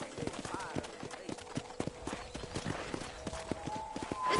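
Horse hooves clip-clop steadily on the ground of a corral in a video game, a regular run of sharp knocks under ongoing talk and background sound.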